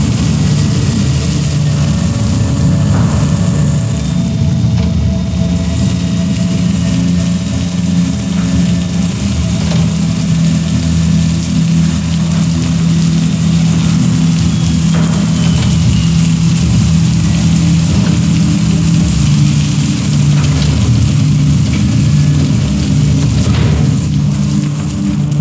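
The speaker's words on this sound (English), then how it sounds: "Main engine ignition. Here we go. First time I've ever launched a spacecraft." A spacecraft's main engine ignites in the video game Cyberpunk 2077 Phantom Liberty, a loud, continuous low rumble and roar that holds steady throughout.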